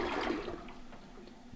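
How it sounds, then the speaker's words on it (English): A newly installed 6 liter (1.6 gallon) toilet flushes, a steady rushing swirl of water that begins loud and slowly eases off, with no talking over it. "Once I flush the toilet itself, again, we're just looking for any leaks here"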